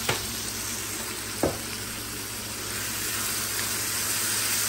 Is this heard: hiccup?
no